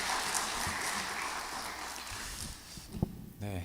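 Applause from a congregation at a Korean dawn prayer service, welcoming a pastor to the front; a steady, dense wash of clapping fills the room at low volume before fading toward the end.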